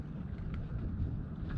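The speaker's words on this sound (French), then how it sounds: "on sent bien le vent qui revient comme ça" Wind blowing across a sailboat at anchor in a calm setting, a low, steady rumble of wind against the microphone with no clear voices.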